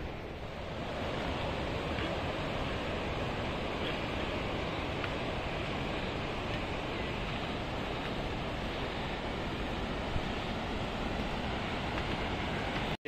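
The Langtang River rushes below high Himalayan peaks along the trek from Mundu to Kyanjin Gompa, a steady, dense roar of flowing water that holds unbroken and fairly close for the whole stretch, with no voices.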